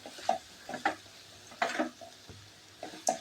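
A utensil gently stirs onion sevai in a pan over a low flame, making soft, irregular scraping and clinking strokes with quiet pauses between them in a calm kitchen.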